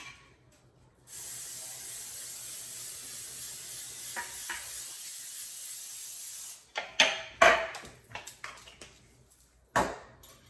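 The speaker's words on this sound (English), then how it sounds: "Now I'm just going to spray my pan." A steady hiss of Pam cooking spray runs for several seconds, then stops, followed by clicks and clatter of a pan being handled nearby.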